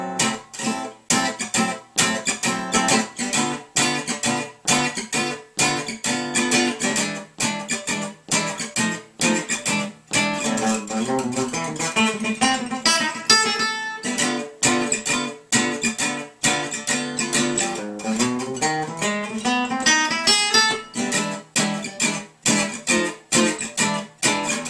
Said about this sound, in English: I'll play a little bit of a really famous Gypsy tune